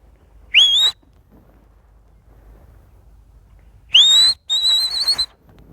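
A person whistling: one short rising whistle, a pause, then two more piercing whistled notes in quick succession, loud and close against a quiet background.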